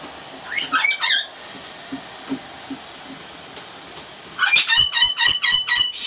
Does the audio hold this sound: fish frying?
no